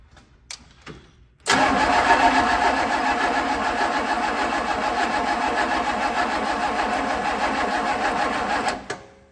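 A 1965 Pontiac Catalina V8 that is getting no fuel cranks on the starter off a booster pack in one long, steady, loud rhythmic churn of about seven seconds without catching, after a couple of brief clicks.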